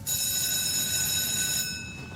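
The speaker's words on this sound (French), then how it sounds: "T'as pas entendu la sonnerie?" An electric school bell in an animated series rings with a continuous, shrill metallic buzz for almost two seconds, steady and fairly loud, then cuts off abruptly with no talking.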